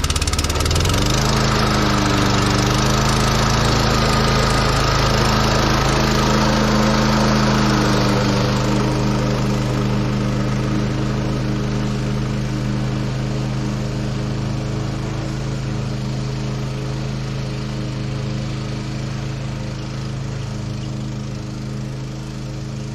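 A Bad Boy commercial 21-inch lawn mower with a side discharge chute runs loud and close, a steady droning engine that holds for the whole stretch and eases slightly in loudness toward the end, with no voices.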